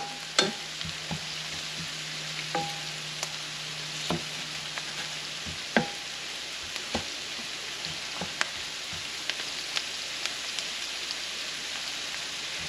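Onions sauté in a pan for a lobster ravioli sauce, a soft steady sizzle dotted with scattered ticks and spatula scrapes throughout, no one talking.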